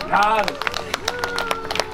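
An audience at the Julianatoren applauds performers with brief, scattered close handclaps, and a voice speaks over them.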